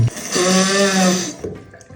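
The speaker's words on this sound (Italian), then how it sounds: "Mettete un po' di sapone tra le mani, strofinate le mani, poi passate sotto l'acqua" Hands rinsed under a running tap, a steady rush of water lasting just over a second with a faint whining pipe tone, then trailing off into quieter splashes.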